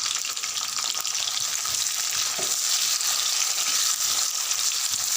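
Crushed garlic and onion hit spluttering mustard seeds in hot oil for drumstick pulusu, a loud continuous sizzle with scattered crackles and pops close up, no voices.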